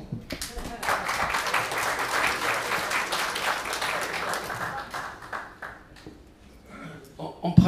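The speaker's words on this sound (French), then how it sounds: "Je crois qu'on peut applaudir." An audience at a talk breaks into sustained applause of many hands clapping, swelling then tapering off over several seconds, with a voice speaking at the end.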